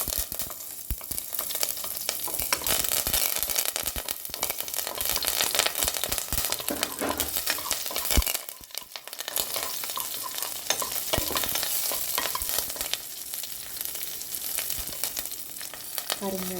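Green chillies and curry leaves hit hot oil with mustard seeds in a pan, giving a loud, continuous sizzle and crackle that briefly dips before the frying hiss resumes steadily, with stirring throughout.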